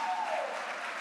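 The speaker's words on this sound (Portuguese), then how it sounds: "Vamos aplaudir ao Senhor" Church congregation applauding during a Portuguese-language worship service, a steady wash of clapping lasting about a second with no clear breaks.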